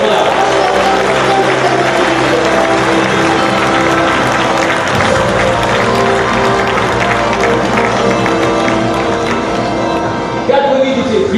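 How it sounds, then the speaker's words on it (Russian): Loud, sustained applause from a large crowd, a continuous wash of clapping that holds steady before easing slightly near the end. "Ваши аплодисменты!"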